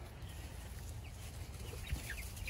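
Soft clucking from backyard hens around an old chicken coop, faint and scattered over a steady low rumble, with a few brief chirpy calls.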